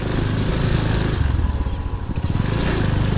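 A motorcycle engine runs steadily close by at a riverside spot near the Jamuna bridge, a continuous low rumbling drone that swells slightly in the middle and continues without talk.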